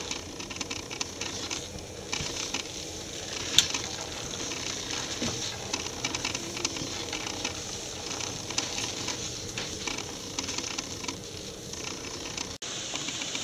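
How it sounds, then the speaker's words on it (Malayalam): Lentil curry bubbles steadily in a pot, a continuous soft simmering hiss with small popping bursts, close and even, without any talking. "നമ്മുടെ പരിപ്പ് നല്ലപോലെ തിളച്ചിട്ടുണ്ട്."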